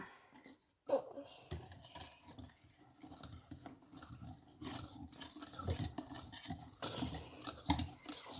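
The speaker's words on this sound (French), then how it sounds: "Et là tu peux touiller." A spoon stirs a homemade dog ice cream mixture in a bowl, with close clinking and scraping strokes that come in irregular bursts, and faint voices in the background.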